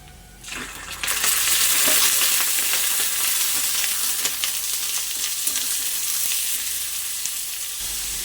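Meat hits a wok of browned onion in mustard oil, a quiet start bursting about one second in into a loud, dense sizzle that holds steady with faint ticks and clinks of stirring.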